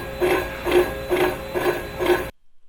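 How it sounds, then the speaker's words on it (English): A TEE 8HP emulsifier runs at low speed with out-of-alignment blades, giving a steady rhythmic chugging pulse about twice a second, five even throbs at close range with no talk. "Out of aligned blades will sound like this."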